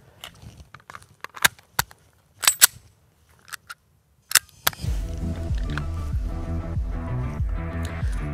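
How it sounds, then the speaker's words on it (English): Beretta APX Centurion pistol fired at a shooting range: several sharp, loud separate shots and clicks with gaps between them, followed by continuous music underneath. "Draw and fire one."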